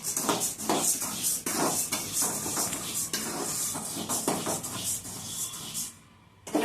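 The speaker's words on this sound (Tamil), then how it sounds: "கிண்டிக்கிட்டே இருக்கணும் அடி பிடிச்சிருக்கக்கூடாது" Masala powder being stirred continuously in a pan, a close, busy scraping and rubbing of a spoon against the metal in quick repeated strokes, with faint sizzling underneath before it drops away at the end.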